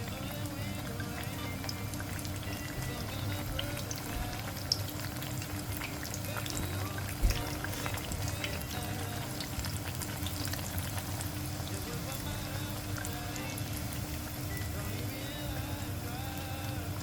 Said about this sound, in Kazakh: Бірінші майымызға қуырамыз.